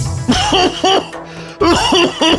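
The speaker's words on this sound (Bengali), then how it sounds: "তোমার কাশি যে বাড়ছে" Two loud, close bursts of harsh coughing, each a quick run of three or four hacks separated by a short pause.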